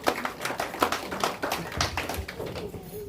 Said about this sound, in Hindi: एक ताली बजाओ आप लोग।